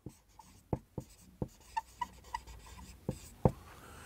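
Pen writing by hand on paper during an accountancy lesson, a string of short scratchy strokes and taps at an uneven rhythm, close and fairly quiet.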